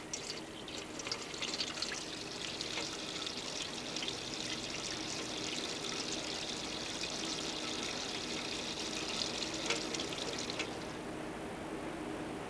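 Water runs steadily from a faucet during handwashing, a continuous hissing splash that holds for about eleven seconds and then drops away, with no voices.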